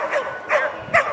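A border collie gives three short barks about half a second apart while herding sheep during a sheepdog trial contest at a fall fair on Salt Spring Island, with the sheep standing defensive. The barks are fairly close and loud, with no talk over them.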